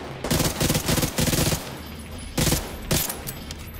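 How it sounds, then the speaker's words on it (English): A machine pistol from The Division 2 fires in short rapid bursts, four quick volleys followed by two more after a pause, each a tight rattle of close shots. "it's a machine handgun. Listen to it."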